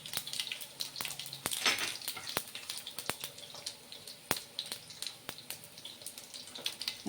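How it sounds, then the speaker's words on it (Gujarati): Whole cumin seeds crackle in hot oil during tempering for dum aloo, a steady fizzing sizzle with sharp pops and clicks scattered throughout, close and fairly quiet. "તેલ ગરમ થઈ ગયું છે, તેમાં થોડુંક આપણે જીરું એડ કરીશું, આખું જીરું"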